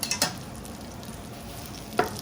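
Chicken parmesan sizzling steadily on a hot sizzle platter, a constant crackling hiss close up, with a few brief clinks and scrapes.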